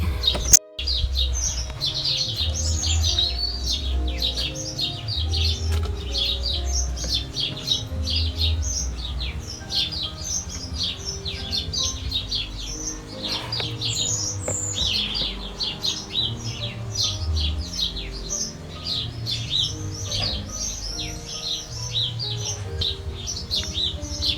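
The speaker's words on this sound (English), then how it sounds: "the birds are noisy" Many birds chirp and tweet continuously, a busy chorus of bright calls over a low rumbling background, with no one talking.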